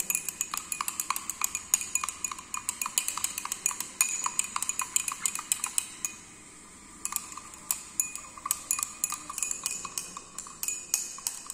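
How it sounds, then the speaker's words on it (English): Hydroxypropyl methylcellulose being stirred into a warm shampoo solution, giving a steady run of quick clinking and tapping strokes against a vessel, close and fairly quiet, with a brief pause partway. "stir it to get the proper dissolution of the hydroxy propyl methyl cellulose"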